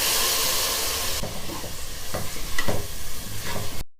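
Tomatoes sautéing with ginger garlic paste for a fish biryani, with a loud hiss at first and then a string of stirring scrapes and spatula knocks against the pan.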